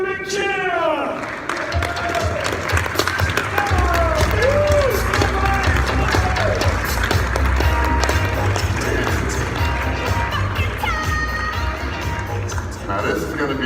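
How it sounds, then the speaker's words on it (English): A conference crowd at a Mobile World Congress keynote breaks into sustained applause and cheering, dense and loud, while a voice with music-like tones rides over it before the clapping settles into a steady wash. "Please put your hands together and give him a big cheer!"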